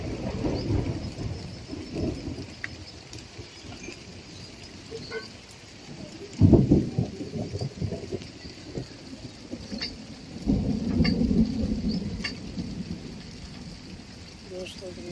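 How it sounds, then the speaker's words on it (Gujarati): Rain falls steadily in a village in Limbdi taluka, Surendranagar, while deep thunder rumbles roll in at intervals, with a heavy close crash partway through and another long swell later. "તમે જોઈ શકો છો કે વીજળીનો ગડગડાટ કેટલો ભયંકર જાગે છે"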